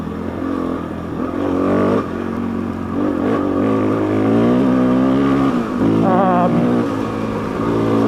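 A Suzuki DRZ400 motorcycle is ridden on a road, its single-cylinder engine droning loud and close, rising and falling in pitch as it revs and shifts.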